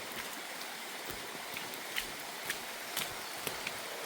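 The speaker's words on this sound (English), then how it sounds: "I'm assuming the water's a little higher than normal just because it's been raining" Stream water running high after rain rushes in a steady broadband wash along a hiking trail, with a few soft footsteps or knocks near the listener.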